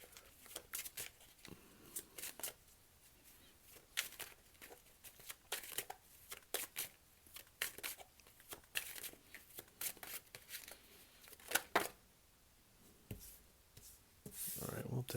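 Tarot cards shuffled by hand, a quiet run of soft riffling, slapping and papery flicks in irregular bursts, close and faint with no voice over them.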